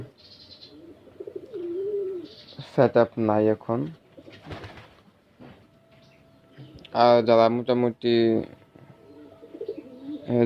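Pigeons kept on a small farm coo softly in low, rolling calls, heard between and beneath someone speaking nearby.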